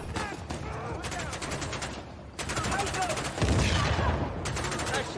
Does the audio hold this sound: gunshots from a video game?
yes